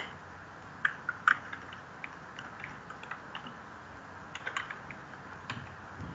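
Soft, sparse keystrokes on a computer keyboard typing a command, a few scattered clicks heard faintly over a quiet room hum.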